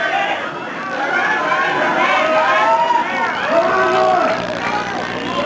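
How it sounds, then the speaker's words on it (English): A wrestling crowd at an NWA St. Louis event yelling a chant in a dense, steady roar of many voices, with an announcer talking over it. "Crowd's yelling, "Fatwell is chicken.""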